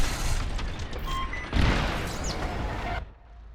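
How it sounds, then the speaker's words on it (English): A TIE Interceptor's blaster shots strike a target in the space dogfighting game Star Wars: Squadrons, a loud burst of booming impacts and crackling laser zips that cuts off abruptly near the end. "So that was a pretty good shot with that TIE Interceptor"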